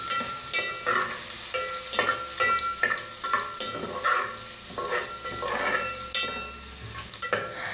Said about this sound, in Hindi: ज़ीरे को हल्का सा फ्राई करके इसके बाद मैंने इसमें अदरक लहसुन का पेस्ट ऐड किया।